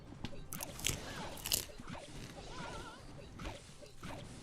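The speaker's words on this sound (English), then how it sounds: "Here comes a little ASMR crunch on the matzah." Someone bites and chews crunchy matzah close to the mic, producing several sharp crackling crunches followed by softer chewing and rustling.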